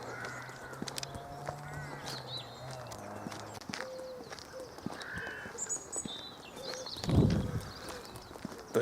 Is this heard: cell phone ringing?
no